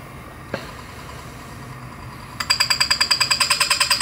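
DF64V grinder with SSP burrs being aligned at low RPM, a single faint tap early, then a fast rhythmic ticking scrape of the burrs touching, about fifteen even pulses close up near the end.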